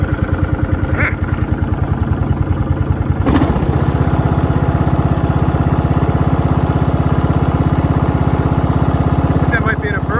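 A free riding lawn mower engine runs steadily and loud, close by, with its throttle set all the way down and a rapid even firing pulse. A brief clunk comes early on, and someone speaks over it.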